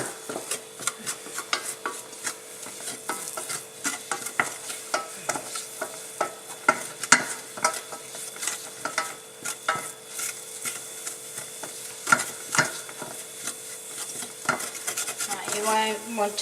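Flour and margarine roux stirred in a pan, with a steady run of scraping and tapping strokes against the metal and a soft sizzle underneath, close and continuous without speech.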